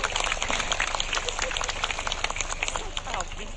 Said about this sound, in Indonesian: tepuk tangan buat Pak Bupati kita sama Ibu